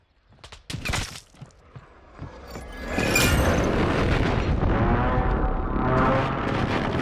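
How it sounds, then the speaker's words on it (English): An airstrike explodes in Call of Duty with a deep, booming blast and a long rumbling roar, preceded by a few sharp shots and thuds, loud and close. "Hostile airstrike near your location."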